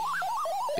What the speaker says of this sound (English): And we have that annoying beeping noise